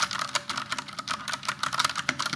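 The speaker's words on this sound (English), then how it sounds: "is now this clear clicky sound and you just hear how keycap hits to the bottom and come back to the top" Clicky mechanical switches on an IQUNIX keyboard clatter in a fast, steady typing run, each keycap bottoming out and springing back with sharp, close-up clicks.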